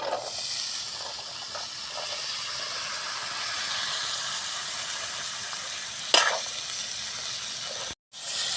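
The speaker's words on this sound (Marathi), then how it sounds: "तर आता हे एकत्रित मिश्रण बनवून आपल्याला थोडा वेळ तळून झाल्यानंतर लगेच त्यामध्ये गवार टाकून द्यायचे आहे" Cluster beans fry in a spice mixture in a pan, a constant loud hissing sizzle close by with faint scraping stirs and one sharp clank, briefly cut off near the end, no talking.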